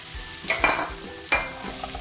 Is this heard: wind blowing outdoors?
no